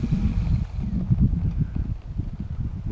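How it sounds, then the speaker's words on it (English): Wind blowing outdoors on a breezy day at a model airplane flying field, a steady low rumbling gust buffeting the microphone throughout with no one talking. "Wind's still out of the north."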